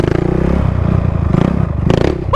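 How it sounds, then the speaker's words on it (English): Four-wheeled quad bike with a 450-class engine, heard as a loud, close, buzzing single-cylinder drone that rises and falls in pitch as the rider revs and accelerates. "It's like a 450 dirt bike, except four wheels, which is even scarier."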